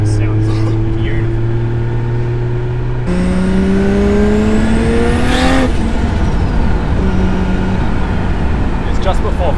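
A fully forged Nissan C33 Laurel on a mountain touge run, its engine droning loud and close then revving up through a gear with rising pitch, over road and wind noise.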